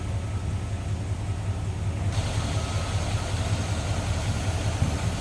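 A 1962 Oldsmobile Dynamic 88's 394 V8 engine idles steadily and smoothly, a low even rumble with a faint pulsing throb, no voices.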